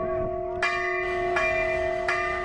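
Temple bells in Uttarakhand ring in three bright, resonant strikes about three quarters of a second apart, each leaving a sustained metallic tone that lingers and overlaps the next.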